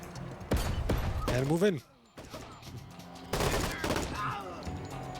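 Flashbang bursts and rapid gunfire erupt in the tactical shooter game Door Kickers 2, loud clustered volleys split by a brief quiet gap, with a voice giving a short command.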